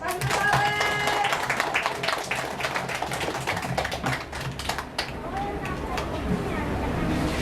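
Schoolchildren clap for a guest in a classroom at a school under a Jakarta toll road, a scattered flurry of hand claps that runs for several seconds while adults and children talk over it.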